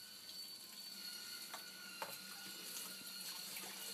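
Tap water runs quietly over canister aquarium filter media during maintenance, a soft steady splashing trickle with a few brief drips and clicks, faint and alone.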